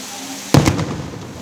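Firecrackers go off during worship at the Ekambaranathar temple, a single sharp loud bang with a quick second crack, then a brief rumbling tail over steady background noise.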